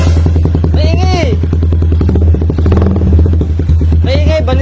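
A Rusi Raider 150 motorcycle engine idles loudly with a steady low throb, then revs up harshly through a new open exhaust pipe, with voices shouting over it.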